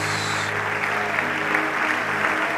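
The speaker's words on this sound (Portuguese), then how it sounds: "Dá um aplauso a Ele" A church congregation claps in sustained, dense applause, a steady roar of many hands filling the hall without a break.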